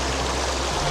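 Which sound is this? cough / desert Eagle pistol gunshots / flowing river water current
flowing river water current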